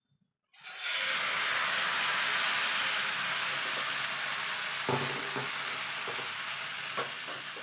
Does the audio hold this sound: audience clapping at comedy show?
no